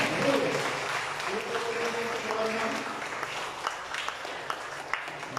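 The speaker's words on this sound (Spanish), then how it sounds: "¡Aplausos, Señor!" Church congregation applauding during a service, a dense burst of clapping with voices calling out over it, tapering to scattered claps near the end.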